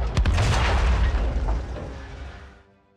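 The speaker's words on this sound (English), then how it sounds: "The scene cuts right after Draven got caught in an enemy explosion." A loud boom from an enemy explosion catching Draven in a League of Legends lore cutscene, hitting hard at once, then rolling and rumbling before it fades out over about three seconds.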